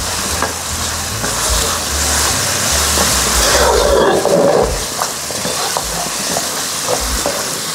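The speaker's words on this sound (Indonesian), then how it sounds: "Ini aduk-aduk terus supaya bumbunya nggak gosong." Spicy seasoning paste for chicken feet is stirred in a covered non-stick pot, giving continuous scraping and soft sizzling with occasional clinks of the utensil, steady and close, with no talking.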